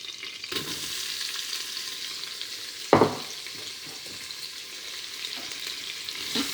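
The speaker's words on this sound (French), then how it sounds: "Maintenant, on met les oignons à revenir." Onions fry in a pan for carbonade flamande with a steady, soft sizzle, briefly interrupted by a clatter of utensils as they are stirred, before the even frying hiss resumes.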